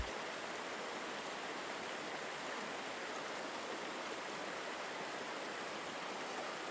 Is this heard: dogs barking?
no